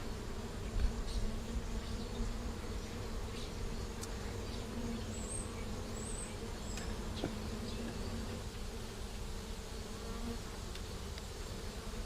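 A hive of honey bees drawing out new comb on a frame gives a dense, steady buzz close by. A few individual bees drone past over a low hum, with no voices.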